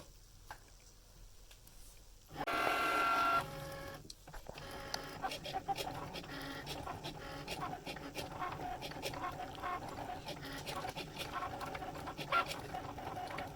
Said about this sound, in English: I'm going to click on or press the Cricut button.